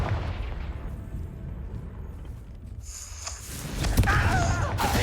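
The Confringo fire spell in the Hogwarts Legacy video game: a rumbling magical blast with a low roar, then a louder fiery burst and crackle near the end.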